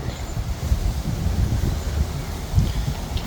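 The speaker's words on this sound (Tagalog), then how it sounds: "Sobrang hangin." Strong storm wind in Melbourne, Australia roars and buffets the microphone in gusty low rumbles, continuous and fairly loud, with no voices.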